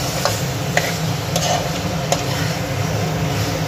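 Chicken curry masala with yogurt and fresh coriander being stirred in a pan, a steady close sizzle with a few light spatula taps against the metal.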